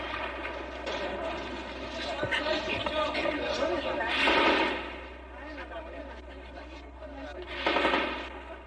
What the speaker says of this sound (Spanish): los tanques intercambian disparos con los carabineros de la Guardia Presidencial